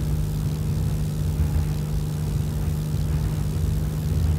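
A simulated aircraft in X-Plane 11 throttles up for takeoff with full flaps, a steady droning engine hum with a strong low tone, heard alone without talk.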